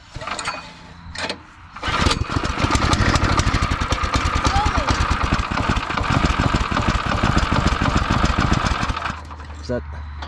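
A small go-kart engine, freshly swapped and started with the choke left on, fires up after a couple of brief attempts and then runs loud and steady with a rapid, even pulsing, close by, before cutting out near the end.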